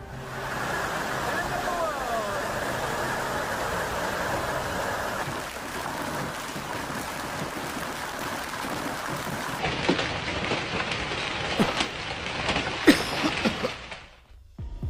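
Heavy hailstorm with rain: a dense, roaring wash of falling precipitation, with sharper clattering impacts building in the later seconds before it cuts off abruptly, and a voice talking over it.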